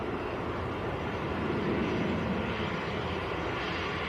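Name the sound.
Lufthansa City airliner to Munich at Manchester Airport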